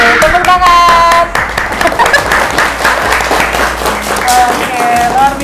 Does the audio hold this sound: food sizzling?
no